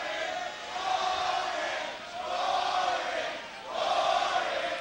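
At a TNA professional wrestling event, an arena crowd chants at the world champion in loud rhythmic waves that rise and fall about three times, filling the hall with massed voices.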